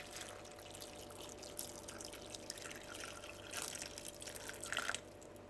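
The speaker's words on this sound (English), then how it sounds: "So right now I'm going to add 2 cups of water." Two cups of water trickle and drip into the rice in an electric rice cooker, a faint, close pouring sound with a few sharper drips near the end.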